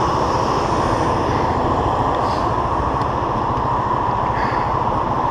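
Motorbikes idle in traffic, a loud, steady engine drone that fills the scene without pause and gives no clear rev peaks.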